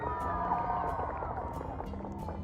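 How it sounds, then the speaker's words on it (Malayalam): Crowd applauding and cheering at a grand gold and jewellery showroom inauguration ceremony, a continuous wash of clapping and excited voices held at a fairly even level, with sharp claps and shouts rising out of it. "ഒരു വലിയ കൈയടി കൊടുക്ക്."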